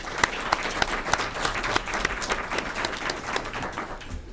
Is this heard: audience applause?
yes